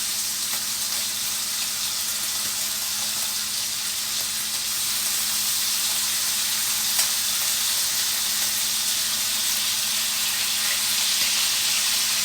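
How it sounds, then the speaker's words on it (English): A whole package of bacon fries in a pan with a steady, bright sizzle and hiss, close and continuous throughout, with a faint low hum beneath and no voices. "And just frying up a whole package."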